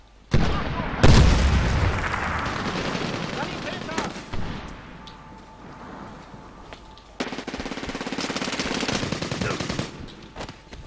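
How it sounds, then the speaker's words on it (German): Artillery shells and gunfire in the Medal of Honor Warfighter multiplayer match in the Shogore Valley, with a loud blast near the start, then sustained rattling automatic fire in bursts at close range. "Der Schuss im Anflug! Deckung!"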